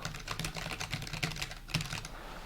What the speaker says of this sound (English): I'm gonna do a little type test right now